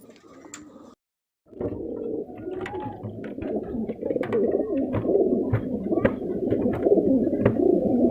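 Khal pigeons, a breeding pair sitting on eggs, coo in soft throaty repeated calls close by, with a brief pause early on before steady overlapping cooing resumes.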